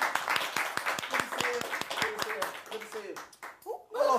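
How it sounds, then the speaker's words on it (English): A TV studio audience claps for a guest invited up, brisk scattered applause that fades away under a host talking. "Big applause."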